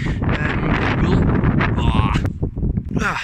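Wind blowing outdoors at a rocket launch site, a loud continuous buffeting roar across the microphone with gusty rustling throughout and no clear pauses.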